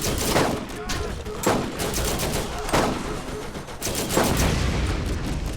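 An automated turret in Borderlands fires in repeated heavy bursts every second or so, close and loud over a constant busy background of combat noise.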